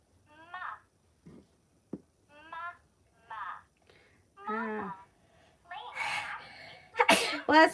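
A single sharp, loud sneeze bursts out at the end, after a stretch of quiet, intermittent speaking.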